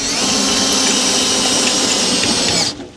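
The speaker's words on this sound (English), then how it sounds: "let's run the jack up and down and make sure it still functions" SnapPad Snapjack electric RV tongue jack on a 2020 Forest River 236BHXL travel trailer, a loud close motor whine running steadily for under three seconds before abruptly stopping.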